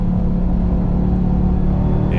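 A RAM TRX pickup truck racing flat out around the Nurburgring, its engine a loud, steady, close roar that holds without a break across the whole stretch.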